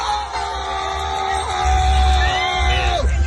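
Excited yelling and whooping from a man celebrating a slot machine jackpot win in a Las Vegas casino, loud and close over the electronic chimes and melodies of slot machines.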